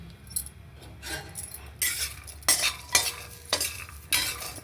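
Peanuts and garlic stir-fried in a pan: a series of loud, close scraping and rattling strokes of a spatula roughly every half second over a low, steady sizzle.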